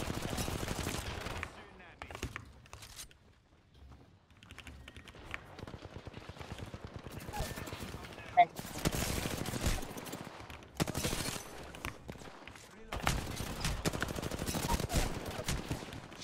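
Rapid bursts of automatic gunfire in the online shooter Apex Legends, loud and repeated in several dense volleys separated by short lulls, with players' voices in between.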